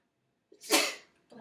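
One loud, close human sneeze during a medical physical assessment, preceded by a short intake of breath and followed by a faint voice.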